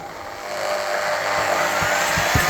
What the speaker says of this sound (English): We're just going to start it with this DeWalt drill.